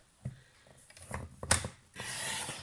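A paper trimmer slices card stock for a handmade vintage card, giving a couple of short scraping cuts followed by a longer, louder rasping stroke, close and clear with no talking.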